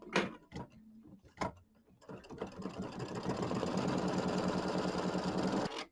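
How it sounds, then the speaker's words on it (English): Embroidery machine stitching a tack-down line over layered fabric for a Kimberbell Nativity bench pillow: after a few scattered handling knocks, a steady, dense rapid stitching rattle runs loud and continuous for several seconds. "we're going to do our tack down stitch and do the trimming"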